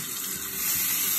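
A bald head shaver is rinsed under a running tap, a close, steady gush of water that grows slightly louder partway through.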